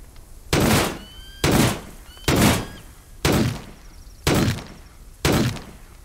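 Shotgun fire in the survival video game Dysmantle: six loud, evenly spaced blasts, each a sharp burst with a short decaying tail, repeating roughly once a second with no talking.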